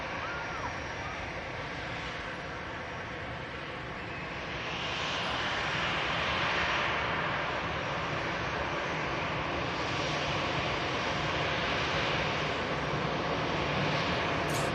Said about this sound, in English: An EasyJet just vacating from Faro in front of us.